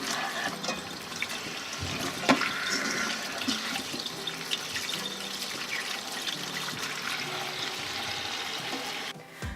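Running water splashes steadily from a tap, with occasional clatters and knocks as jackfruit is rinsed under the flow, ending abruptly.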